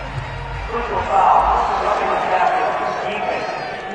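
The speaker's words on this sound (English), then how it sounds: "this crowd does not like that call" Stadium crowd in a Madden NFL football video game reacts to a penalty call with a swelling roar of disapproval that rises, then slowly fades under continuous game commentary.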